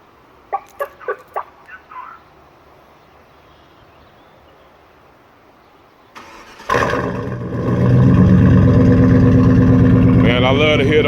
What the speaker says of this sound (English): Finna remote start the vehicle and let y'all hear these pipes.